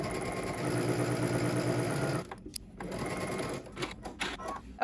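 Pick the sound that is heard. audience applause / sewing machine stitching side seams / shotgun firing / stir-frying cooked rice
sewing machine stitching side seams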